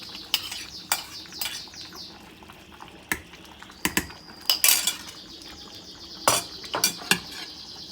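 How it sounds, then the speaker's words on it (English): Onion going into a pot of oil for a yam dish, followed by a spoon stirring and scraping against the pot, with sharp metallic clinks scattered through and a soft background sizzle. "Then now you are going to add the rest of the onion."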